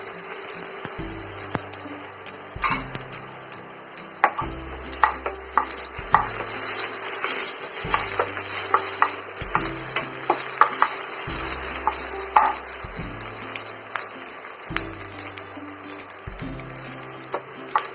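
Ginger garlic paste frying in a pan, a steady crackling sizzle with scattered pops and stirring scrapes under low rhythmic background music, close and continuous.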